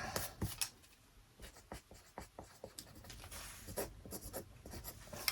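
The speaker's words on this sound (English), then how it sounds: "I'm just going to write 44 centimeters." Handwriting a measurement of 44 centimeters while designing a new top: faint, close scratchy pen or pencil strokes in short irregular bursts, quiet and without speech.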